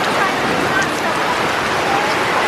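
Hail pelting down outdoors in Oklahoma during a mini golf outing, a dense steady hiss and patter filling the whole stretch, loud and close, with faint voices mixed underneath.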